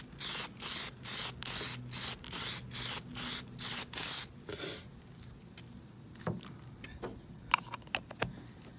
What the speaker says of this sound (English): And for this one, I'm just gonna spray.